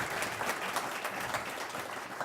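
A large crowd at a City Club panel on media bias and fake news in 2017 gives continuous, dense applause, heard throughout at an even level with no talking.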